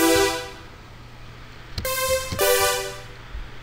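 Supersaw synth lead from Native Instruments Massive with release added on envelope 4, so the bright, buzzy chords fade out gently rather than cutting off. Several sustained stabs play alone, each tapering over a soft tail.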